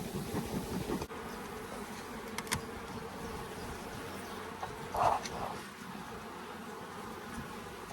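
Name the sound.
honey bees buzzing around an open hive box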